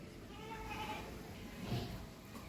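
A nine-month-old Holstein Friesian heifer calf on a farm gives a quiet, drawn-out bleating call, faint against background noise.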